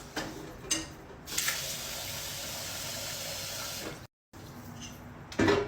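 Tap water runs steadily into a Thermomix bowl in a kitchen, a continuous close hiss and splash lasting several seconds, briefly stopping and then resuming, with small clatters at the start and end.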